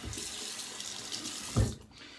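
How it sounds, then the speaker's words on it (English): A razor rinsed under a running bathroom tap after a shave, steady close water flow with a brief louder splash near the end before the stream fades, no talking. "And we'll rinse this off."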